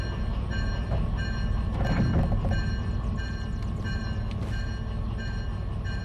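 A train in Derail Valley rolls off after its manual brakes are released, giving a steady rumbling rail noise with faint clacks and squeals, fairly loud with no voices.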